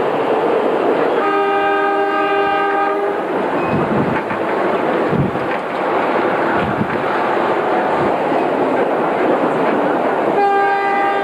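A commentary train on the Great Northern Railroad rumbles steadily and loudly at close range, with a sustained horn blast near the start and again at the end and no speech over the running noise.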